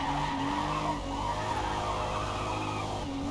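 A car drifts in Forza Motorsport, tires squealing continuously over the engine's drone as it slides through long corners, loud and close with no talking.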